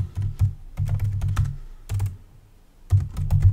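Computer keyboard keys tapped in several quick bursts with short pauses, close and fairly soft, while a message is typed during a flowchart drawing lesson, with no voices.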